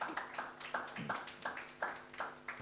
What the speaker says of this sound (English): Let's clap hands for Jesus for such a teaching.